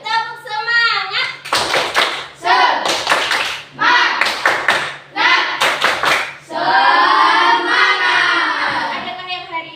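Sixth-grade primary schoolchildren in a classroom perform a patterned spirit clap, bursts of rhythmic group claps alternating with children chanting and singing along, loud and close.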